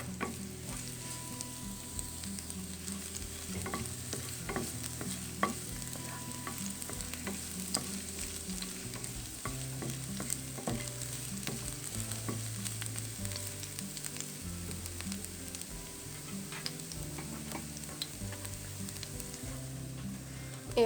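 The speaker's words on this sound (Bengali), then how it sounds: "এখন একটি প্যানে তেল দিয়ে দিতে হবে। এরপর প্রথমে রসুন," Garlic sizzles in oil in a frying pan, a constant crackling hiss with small pops and stirring scrapes lasting the whole stretch, with no one speaking.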